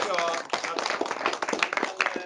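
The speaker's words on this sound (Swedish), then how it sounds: "Vi tackar Camilla med en applåd." A small group claps briskly and unevenly, the applause fairly close, with a voice speaking over it.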